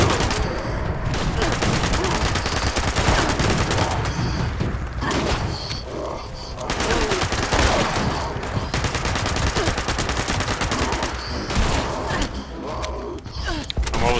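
Dense bursts of crafted-ammo gunfire in Fallout 76, rapid, loud and nearly continuous volleys over several seconds with brief pauses, with a player voice talking in places.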